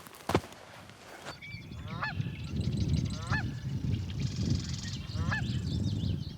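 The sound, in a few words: birds calling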